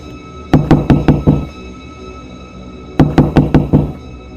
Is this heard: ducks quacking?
no